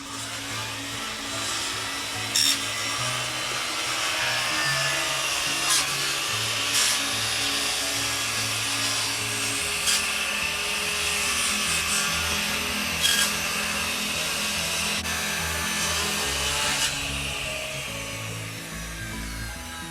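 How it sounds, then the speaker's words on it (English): A circular saw trims a fascia board during roof work, cutting with a loud, steady, continuous whine and rasp for the whole stretch, broken by a few brief sharper scrapes. "using his circular saw to trim off the board for the fascia here"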